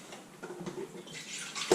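Vegetable stock made from parsnips, broccoli and cauliflower pours from a container into a slow cooker, a soft continuous splashing trickle that swells near the end, with no talking.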